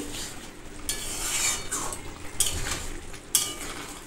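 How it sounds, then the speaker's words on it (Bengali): A spoon stirs chicken curry in a pan of simmering meat and water, giving several close scraping and clinking strokes in uneven bursts over a soft background hiss. "এই যে মাঝে একবার খুলে আমি নেড়েছিলাম, আবার এই যে নাড়ছি।"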